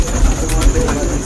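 Pigeons coo close by in a loft, soft low murmuring calls over a noisy background with a constant high tone and brief bird chirps.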